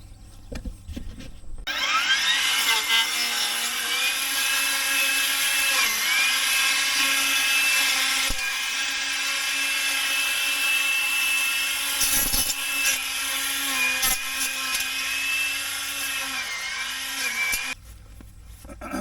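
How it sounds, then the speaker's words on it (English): Ryobi 40-volt battery weed whacker cutting weeds outdoors, a close, loud, continuous high whine that starts abruptly, wavers slightly in pitch as it bites into growth, and cuts off near the end. "we're just going to take the weed whacker and start cleaning some of this up"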